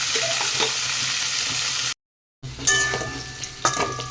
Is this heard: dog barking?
no